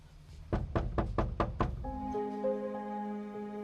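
Six quick, firm knocks rap on a door in an even rhythm. A steady low hum with faint tones follows and continues after the knocking stops.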